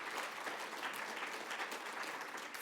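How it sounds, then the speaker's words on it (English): Audience applause at a book award ceremony, a dense, continuous wash of many hands clapping at moderate volume from a room full of people, with no voices over it. "We'll give Kerry a nice round of applause."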